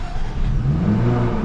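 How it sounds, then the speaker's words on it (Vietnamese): A 2021 Jaguar F-Type P380 sports car revs up close, its throaty exhaust note rising and holding in a low, rumbling growl. "Đây mình sẽ hạ kính xuống để các bạn nghe thử tiếng bô này."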